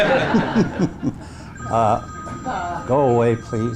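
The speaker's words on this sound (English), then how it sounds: "that's my phone. We won't answer." Mobile phone ringing with a repeating electronic tone in short bursts, heard under and between a man's speech and some chuckling.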